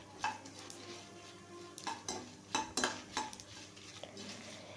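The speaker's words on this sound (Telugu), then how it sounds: "ఎండుమిర్చి ఇలా ఫ్రై అయిన తర్వాత కొంచెం చింతపండును కూడా వేసుకొని ఫ్రై చేసుకోవాలి." Dried red chillies and tamarind fry in a pan for idli podi, with a spatula repeatedly clinking and scraping against the metal in an irregular rhythm over a soft, steady background, up close and with no talking.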